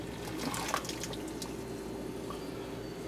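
Close water sounds as liquid trickles and drips out of a canning jar, a brief splashy pour fading into a faint steady background hum.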